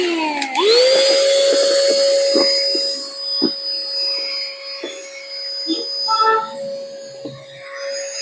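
A mini portable 2-in-1 vacuum pump starts with a rising whine, then holds a steady, loud motor drone as it sucks and blows air. A few soft handling knocks and clicks come through over it.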